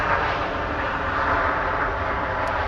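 Ryanair jet airliner at Manchester Airport, a steady broad engine roar from the aircraft, fairly loud and continuous, on a damp evening with no talk.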